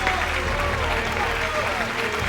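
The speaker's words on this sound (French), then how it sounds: "applaudissons ensemble le futur maire de Los Angeles" Crowd applauding the future mayor of Los Angeles, a loud, continuous wash of clapping heard together with a voice and a steady tone running through it.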